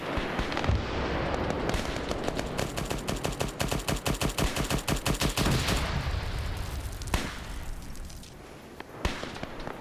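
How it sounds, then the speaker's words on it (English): Long-range machine gun fire in a WW2 battle game rattles in sustained rapid bursts, dense and fairly loud, with a short pause and a few scattered later shots, no talking. "Now they're returning with their own machine gun fire."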